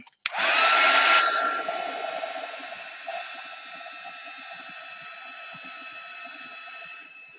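A heat tool or hair dryer switches on with a click and blows a steady whooshing hum while drying an art journal page, loud at first and then settling to a constant lower drone.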